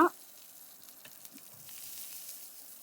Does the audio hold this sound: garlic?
yes